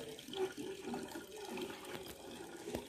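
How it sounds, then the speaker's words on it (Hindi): Water gushes from a hand pump (chapakal) in a faint, continuous splashing flow, with no talk over it. "सगुन पहली बार चापाकल चला रही है"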